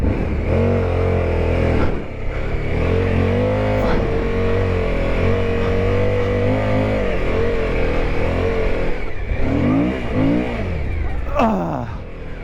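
A 2023 Suzuki V-Strom 1050DE adventure motorcycle pushes through deep sand, the engine revving loud and close with wavering pitch, dropping off near the end and rising again in sharp sweeps under a constant rushing roar.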